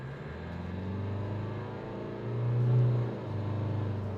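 An Isuzu D-Max V-Cross pickup accelerating, a low steady engine rumble from inside the cab that swells briefly into a louder drone before settling back.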